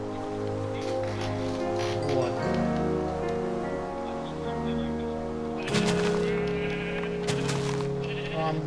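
Sheep bleating in Minecraft, a few short bleats over steady background music, with voices talking throughout.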